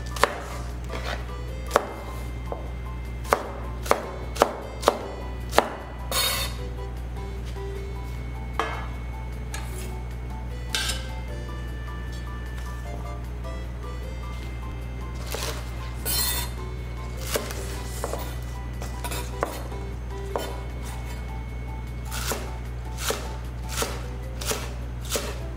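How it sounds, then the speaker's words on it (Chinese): A knife chops green onions into small pieces on a board: a quick run of sharp, close taps at first, then sparser, irregular chops over a low steady kitchen hum. "青葱切小粒"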